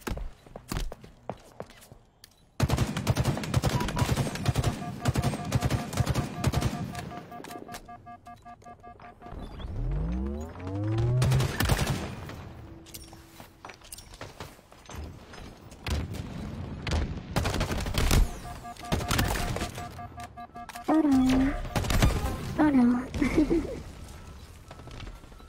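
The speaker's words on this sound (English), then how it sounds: "Rifle sounds so good." Halo Infinite multiplayer gunfire, rapid bursts of rifle shots in repeated volleys with booms, footsteps and other game effects mixed in, loud and up close.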